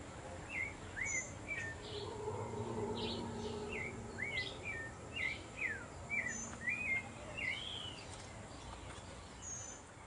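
Many birds chirp and whistle in short bursts throughout a tropical park, repeated calls scattered over a steady background of insect hum, moderately near and fairly clear.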